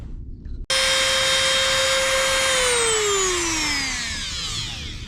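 A rotary tool shaves down a plastic shifter cable fitting on an Abarth 500 shifter. It starts abruptly with a loud, steady high whine that sags gradually in pitch as it bites, and no talk is heard.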